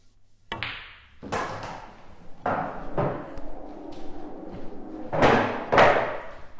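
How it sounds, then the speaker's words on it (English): A pool cue strikes the cue ball in short punch shots on a pool table. Several sharp, separate clicks ring out one after another with brief gaps between them, close and fairly loud. "I'm just going to play the punch shot just to get a bit straighter on the 8 ball"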